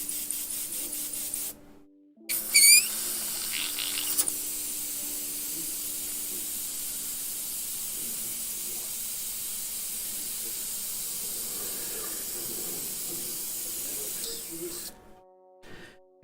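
An airbrush sprays transparent base paint onto a guitar body, a sustained soft hiss that runs for many seconds after a few short bursts and stops abruptly, with a voice talking faintly at times.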